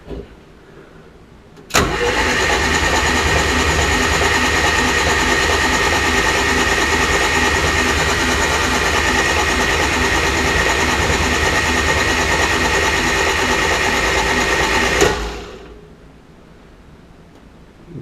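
A Subaru-engined Volkswagen Super Beetle cranks and catches, then idles loudly and steadily for about thirteen seconds, with no oil pressure yet, before cutting off abruptly.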